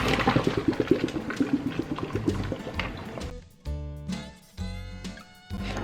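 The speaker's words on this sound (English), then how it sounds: "Pour them into a strainer." Boiled red potatoes and their hot cooking water poured from a pot into a strainer, a splashing gush followed by separate pours and clattering thuds as the potatoes tumble into the colander.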